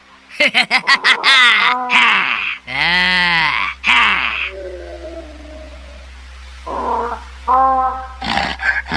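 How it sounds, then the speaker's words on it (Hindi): Story sound effect of a black monkey roaring loudly: several harsh, wavering roars and growling cries of varying pitch, loud and near, broken by short pauses, with no talk over them. "तभी वह काला बंदर जोर जोर से चिंघाड़ने लगता है।"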